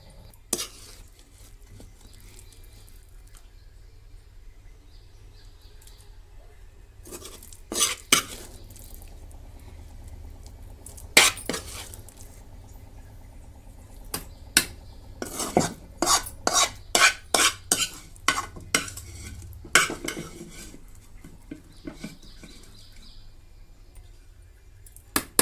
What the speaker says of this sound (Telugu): ఇప్పుడు దీన్ని మిక్సీ జార్లో వేస్తాం